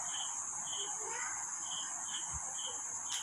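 Crickets chirping in a quiet outdoor setting, a high, faint, continuous trill with soft pulsed chirps repeating at a steady rhythm, no voices.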